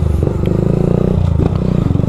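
Honda Fan 160 with a Dore exhaust shifting gears, a loud close engine throb that rises, dips briefly, then resumes its rapid pulsing clatter.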